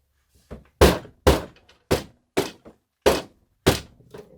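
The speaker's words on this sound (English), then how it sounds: "Now I'm just going to bang this down." A cold process soap mold is banged down on a surface again and again, giving six close, loud thunks in an uneven rhythm, each short and sharp, with quieter knocks in between.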